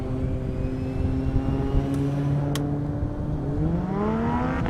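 A Lamborghini Huracan and a roughly 1,000-horsepower Toyota Supra race down an airstrip, a loud steady engine roar with rising and falling harmonic tones as the cars pull away, heard alone with no voices.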